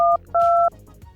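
Touch-tone telephone keypad dialing: two clear, loud dual-tone beeps, a short one followed by a longer one, alone with no talk.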